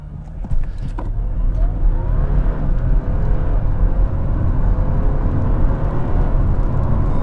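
An Audi A4 Avant 3.0 TDI Quattro diesel accelerates hard from a standing launch, a loud, steady low engine roar rising through the revs with a rising harmonic sweep, close and continuous throughout.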